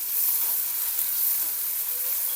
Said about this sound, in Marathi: कापलेला कांदा, कांद्याला परतून घ्यायचं। अद्रक लसूणची पेस्ट, कापलेला टमाटा